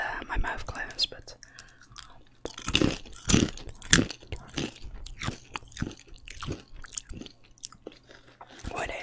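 Close-up open-mouth chewing and crunching of food, wet smacks and crisp bites in an uneven rhythm, with soft whispered talk mixed in.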